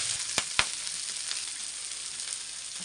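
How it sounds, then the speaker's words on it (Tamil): Fish pieces frying in a pan with curry leaves give a steady close hiss of oil, broken by two sharp clicks early on, with no talking. "ஃபிஷ் ஃப்ரை பாருங்க பாருங்க மக்களே"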